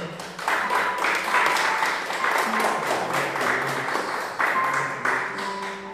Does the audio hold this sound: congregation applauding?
yes